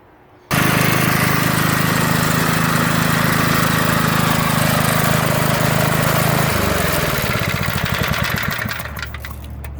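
A McLane edger's engine, first start after eleven years in storage, catches abruptly and runs loud and close with a rough, steady mechanical roar, its pitch dropping and sputtering toward an uneven idle near the end.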